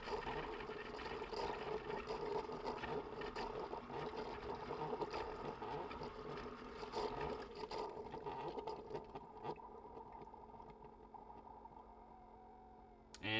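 Descaling solution gurgles and trickles as it flushes through a coffee maker, a steady mechanical hum with watery bubbling that fades near the end before a brief clunk.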